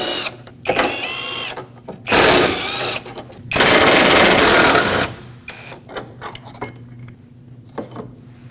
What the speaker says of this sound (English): Let's remove both of the front and the rear 10mm headed bolts to get the brackets out of